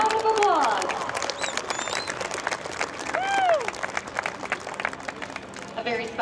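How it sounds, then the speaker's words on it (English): Crowd applause and cheering at the Oshkosh airshow for the Flying Bulls' P-38 Lightning, clapping spread across the clip while an announcer talks over it and whistles rise briefly. "Let's hear a round of applause."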